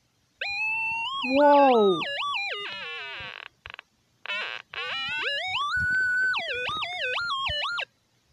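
Oscillator synth tones from Chrome Music Lab sweep and glide in pitch, with several bright siren-like passages separated by short gaps, loud and close, and one brief exclamation from a voice.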